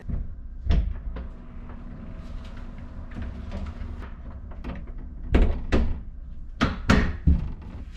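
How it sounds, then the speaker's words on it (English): A restroom door aboard an Amtrak long-distance train is closed and locked: several sharp clunks and latch clicks, some in quick pairs, over a constant rumbling train hum. "Let me make sure I lock the door so we get no unwanted visitors."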